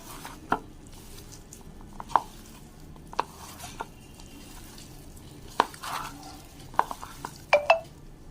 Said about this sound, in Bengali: কর্নফ্লাওয়ার এক চামচ হাত দিয়ে মাখিয়ে নেব